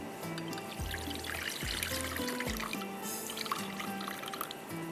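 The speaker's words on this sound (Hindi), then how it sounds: "इसकी यखनी को मैं अलग से निकाल लेती हूँ" Boiled beef stock (yakhni) is poured off separately in a kitchen, a soft continuous trickle and splash of liquid running steadily for a few seconds, close by, with no talking.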